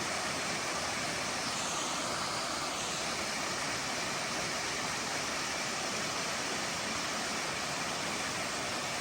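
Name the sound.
Tom Branch Falls waterfall on a trail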